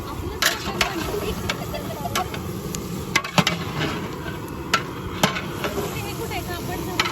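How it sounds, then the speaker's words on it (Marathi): Goat mutton frying in a pan with onion, ginger-garlic paste and turmeric, a steady broad sizzle with occasional sharp clinks and scrapes of a spoon against the pan, moderately close, with faint voices in the background. "मस्त मटण फ्राय करून घेणार त्याच्यामध्ये जावं बकऱ्याचं मटन"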